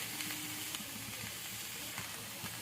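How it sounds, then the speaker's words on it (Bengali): Shredded cabbage and carrots are stir-fried in oil for vegetable patties, with a steady soft sizzle and hiss and faint occasional stirring scrapes, nearby and without talk. "বাঁধাকপিটা দিয়ে একটু তেলে নাড়াচাড়া করে নেব।"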